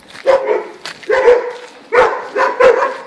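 A dog on a walk barks in four short, loud bursts close by, a couple of yelps grouped with gaps between them, with no talking over the barks.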